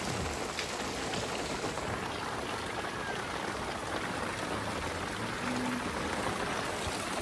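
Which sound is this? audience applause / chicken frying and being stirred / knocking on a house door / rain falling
rain falling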